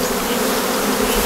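Honeybees buzz steadily and loudly at close range as they are swept off a hive frame by a queen breeder rearing queen cells, a dense continuous hum with no voices.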